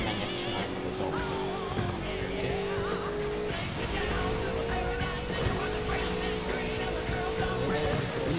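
Car racing and crashing in the Burnout Paradise video game, with a steady engine drone and a rising whine throughout, dense mechanical game noise at a constant loud level.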